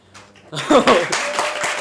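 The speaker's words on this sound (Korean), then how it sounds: "말씀 끝날 때마다 박수가 나와요" Audience applause breaking out after a speaker finishes on a Korean talk show, a dense burst of clapping rising suddenly, with voices mixed in near the start.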